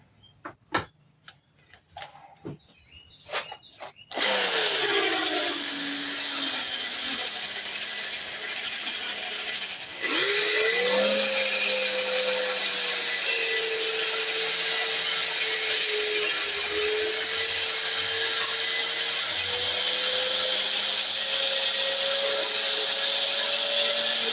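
A power drill bores into a hidden-tang knife handle: a few clicks, then a loud, steady whirring grind with a rising motor whine that briefly dips around the middle before running on continuously.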